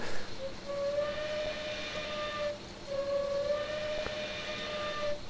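In-game steam whistle of a PRR I1 2-10-0 Decapod locomotive in a train simulator: two long, loud, steady blasts with a short gap between them, set against a constant rumbling hiss of the engine.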